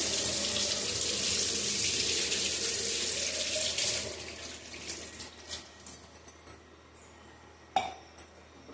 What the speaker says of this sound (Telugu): దీన్ని మళ్ళీ ట్యాప్ కింద ఒకసారి కడిగేస్తానండి.